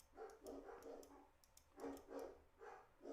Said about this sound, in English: And this is the first time they bark.